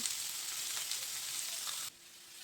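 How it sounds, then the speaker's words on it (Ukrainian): Meat, onion and carrot fry together in a pan for a dish with garlic scapes and rice, giving a steady close hiss of sizzling that drops off sharply near the end. "Все добре разом підсмажимо. М'яско і цибульку з морквою."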